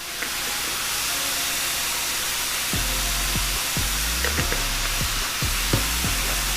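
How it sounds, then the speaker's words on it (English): Pork sausage sizzles in a pan with a steady, close frying hiss throughout, while someone speaks over it in the second half. "Pork sausage, meat, that's what we like. Dump that in the pan."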